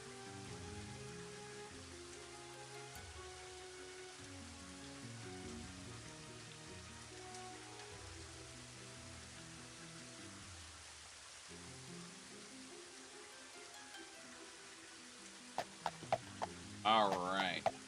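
Steady rainfall in the Elder Scrolls 2 video game, a constant soft hiss of rain running under repeating looped game music, with a few brief louder sounds near the end.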